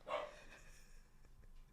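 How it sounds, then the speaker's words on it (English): A dog barks once, sharp and fairly close, followed by quieter trailing yips and whimpers over low background noise. "I don't know if he's barking at somebody or what, but it's rude."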